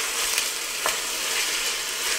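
Chopped garlic stirred in a hot pan, sizzling steadily with a dense frying hiss and a few soft scraping strokes of the utensil, close and continuous without speech.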